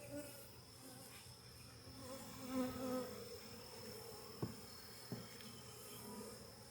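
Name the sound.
honey bees buzzing in an open beehive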